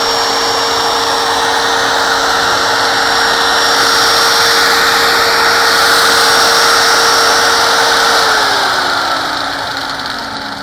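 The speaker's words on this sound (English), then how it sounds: "holding this 4-inch grinder in my hand" A handheld 4-inch angle grinder runs close and loud with a steady high whine. Its pitch holds level, then drops away near the end as it winds down.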